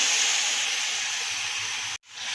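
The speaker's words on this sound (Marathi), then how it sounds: "आता आपण ही जी ग्रेव्ही बनवून घेतलेली आहे ती आपण टाकायची आहे त्याच्यामध्ये" Loud continuous sizzling hiss as gravy hits hot tempering for farali misal, a steady spitting fry that holds strongly for about two seconds before cutting off abruptly.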